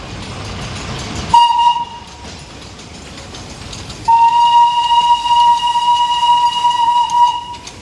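A Darjeeling railway train at the hill station sounds its loud, piercing whistle twice: a short blast, then a longer sustained one over the rumble of the train.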